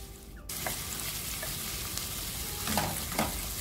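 Minced beef frying with onions and curry powder in a pan gives a steady, close sizzle that fills the whole stretch, with a few brief stirring scrapes near the end and no voices.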